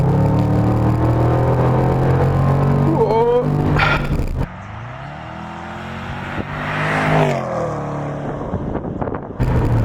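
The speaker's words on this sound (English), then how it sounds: "into sport now, turn on the exhaust note" A 2017 Range Rover Sport SVR in sport mode with the sport exhaust open, heard from inside while accelerating hard: a loud engine roar that drops off, then climbs again in a rising rev, with wind noise and a voice exclaiming briefly.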